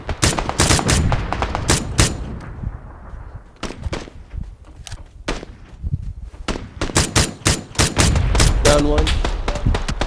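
Rapid bursts of video game gunfire, single shots and automatic volleys, crack loudly and repeatedly over about ten seconds, mixed with a player's talk and brief quieter gaps.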